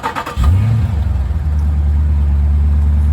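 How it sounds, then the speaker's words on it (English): A 2014 Jeep Grand Cherokee SRT engine cranks and fires up with a push-button start, catching quickly and settling into a loud, deep, steady idle close by. "So without further ado, here comes an engine start."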